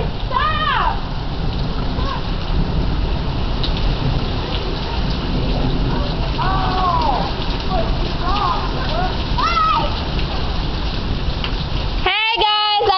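Heavy rainstorm in Surprise, Arizona, a dense steady roar of rain that runs the whole time, with voices calling out over it now and then and a brief louder burst near the end.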